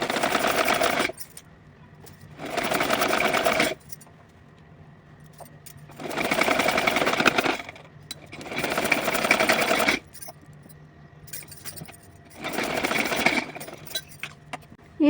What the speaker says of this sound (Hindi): तो चलिए यहाँ की किनारी को पहले सिल के दिखाती हूँ।